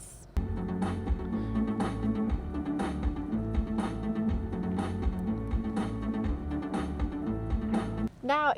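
Music plays loudly through the 12-speaker Harman Kardon system inside a BMW 5 Series, with full bass and a steady beat, and a brief swooping effect near the end.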